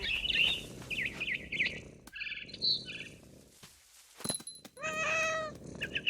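In the video game What Remains of Edith Finch, a cat gives a few meows and chirps, followed by rising bird twitters and trills from a barn swallow, over a steady outdoor ambient bed.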